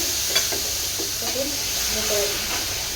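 Onion and tomato hiss and sizzle in a hot wok, a steady close frying noise with a faint voice murmuring underneath.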